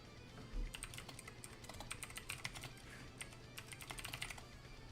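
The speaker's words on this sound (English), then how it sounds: "Just speed clicking." Rapid clicking and key tapping on a computer during an online card game comes in a dense, irregular burst of crisp clicks over several seconds, close and fairly quiet, with no talking.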